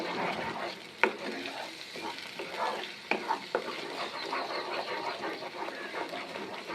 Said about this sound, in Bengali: তেল আমার গরম হয়ে গিয়েছে। এবার এর মধ্যে দিয়ে দিব পেস্ট করে রাখা মশলা।